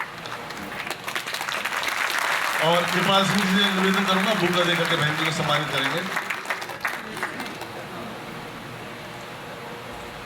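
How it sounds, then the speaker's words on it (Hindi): An audience at a community gathering applauding steadily as a woman is honoured, with sustained clapping under someone speaking over a loudspeaker. "तालियां बजती रहनी चाहिए"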